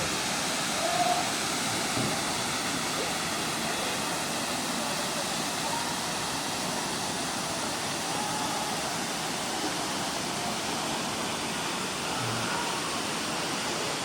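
Mayang Falls in Trece Martires, Cavite, roars as a constant broad rush of falling water from start to finish, a few faint voices showing now and then beneath it.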